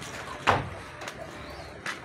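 Pigeons released from their coop give a few soft coos and brief fluttery bursts at close range over a quiet background.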